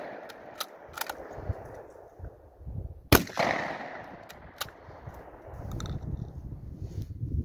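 A 16 gauge bolt-action shotgun fires once outdoors, a single sharp loud blast midway followed by a brief rolling echo, amid quieter background rustling and handling noise.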